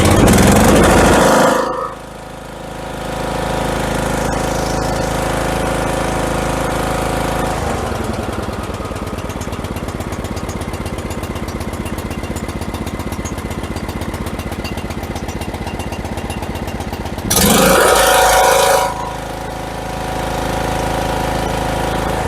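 An MTD 18/42 lawn tractor's rebuilt Briggs and Stratton engine runs loud and close with a steady, knocking drone, revving up in bursts at the start and again near the end between long stretches of even running.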